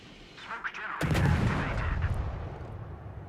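Naval gunfire in World of Warships, with Fletcher destroyer and cruiser ships in battle: a sharp broadband blast about a second in, then a heavy booming rumble that rolls on and slowly fades, faint crackles earlier.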